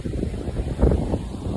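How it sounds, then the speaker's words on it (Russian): Strong wind gusting outdoors beside a castle near a river on the Rhine, a steady low rumble of buffeting against the microphone, swelling briefly toward the middle. "вот такой ветер большой поднялся"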